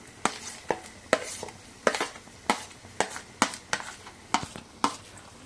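A metal spoon stirs crumbled paneer into potato dosa masala in a pan, with sharp, regular scraping clinks against the pan roughly every half second, close and clear, with no talk.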